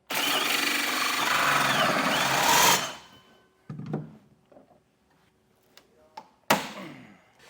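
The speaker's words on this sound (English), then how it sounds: "Now we can drill a hole from the top of the truck using a 4-inch hole saw" A loud power drill with a 4-inch hole saw whines steadily for a few seconds cutting through a 2025 Chevrolet truck bed, then cuts off, followed by scattered clanks and taps of tools.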